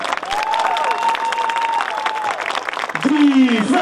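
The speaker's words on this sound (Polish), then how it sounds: "Wielkie brawa Lowlanders Białystok!" Spectators at an American football game between Lowlanders Białystok and Husaria Szczecin break into sustained applause and some cheering, while a public-address announcer speaks over the crowd noise.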